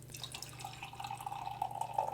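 Southern Grist Gilded double IPA beer poured into a glass, a close, continuous trickling and splashing pour that rises a little toward the end, with a low hum beneath and no talk.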